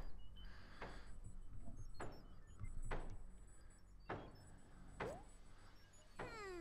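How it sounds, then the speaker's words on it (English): Knocking on a window in the video game A Hat in Time: several distinct hollow knocks spaced about a second apart, fairly quiet, with a few brief whooshing game effects between them. "Some twat over there knocking on my window."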